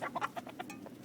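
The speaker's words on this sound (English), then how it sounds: "Epic Rooster was chasing some chicken there" A rooster chasing a chicken gives a quick series of faint clucking squawks, five or six short bursts in about a second, heard at a distance.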